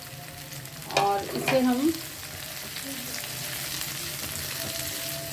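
Small cut eggplant pieces fry on a tawa for Hyderabadi tawa baingan, making a steady, close sizzle throughout, while someone speaks briefly near the start.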